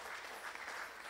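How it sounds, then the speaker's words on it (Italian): Brief, faint applause from an audience at a public debate during a summer festival, an even wash of many hands clapping at a distance. "io gradirei un grande applauso"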